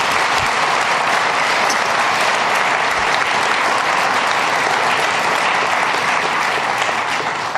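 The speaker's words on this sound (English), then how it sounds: "Let's give him a round of applause." Loud, dense applause from an audience honoring Mike Hines at a gathering with New York Governor Andrew Cuomo, steady clapping filling the room for the full span without voices.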